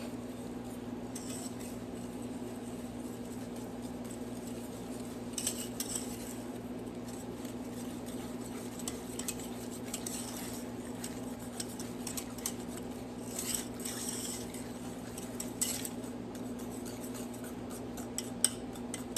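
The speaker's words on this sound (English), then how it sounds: "I'm going to add that in there, and I'm going to mix it up, and it's going to start getting really thick" Spoon stirring white sugar into a thickening chocolate pie filling in a bowl: faint, steady scraping and soft clinks under a constant low hum, with no talking.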